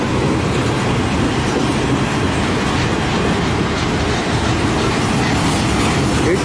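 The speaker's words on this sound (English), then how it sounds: "Here's train number 8 this week. Friday night southbound." A CN freight train rolls southbound at night through Port Huron, Michigan, a steady, loud, close rumble with rhythmic clickety-clack of wheels on rail joints throughout, no voices.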